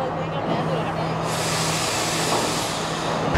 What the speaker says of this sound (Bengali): ট্রেন এইমাত্র স্টেশনে এসে পৌঁছাচ্ছে।